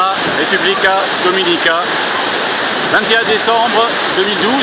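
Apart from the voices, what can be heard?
El Limón waterfall, Samaná, Dominican Republic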